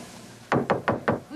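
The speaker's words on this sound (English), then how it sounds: "Go ahead, knock." Four firm knocks on a door in quick, even succession, close and clear against a quiet background with no talking.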